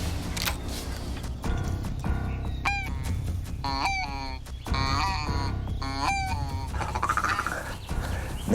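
During a duck hunt, a flock of waterfowl calls nearby, with repeated honking and squawking cries rising over a steady rushing background, the calls overlapping in quick, irregular bursts.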